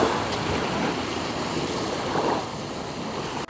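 Ocean surf washes steadily and loudly at a beach where a dog plays in the waves, with no talking.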